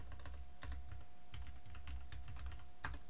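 Login details are typed on a computer keyboard, a quick irregular run of close key clicks over a faint steady hum.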